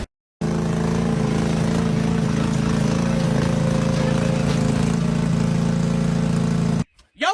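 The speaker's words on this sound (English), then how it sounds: "check out my bulldozer that I built out of my zero-turn lawnmower" A zero-turn lawnmower rebuilt as a small bulldozer runs with a steady, loud engine drone that holds constant, then cuts off abruptly near the end.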